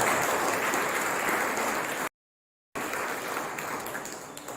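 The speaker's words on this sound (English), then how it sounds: "Let us give a big applause for these three people who has taken pain to our country." An audience at a birthday anniversary celebration in Shillong claps steadily in sustained applause, a dense, fairly distant patter that fills the clip, broken by a short silent gap before resuming.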